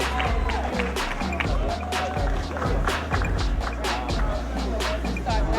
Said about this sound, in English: Make some noise for Miss Martin